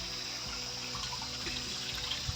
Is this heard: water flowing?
yes